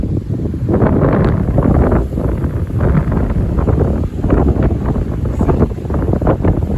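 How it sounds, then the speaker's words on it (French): Strong storm wind with fine drizzle buffeting the microphone in repeated roaring gusts up to 80 km/h, loud and close, rising and falling unevenly throughout. "ça commence à vraiment souffler. Le vent commence à être bien soutenu avec de la bruine"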